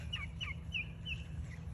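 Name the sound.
backyard chickens clucking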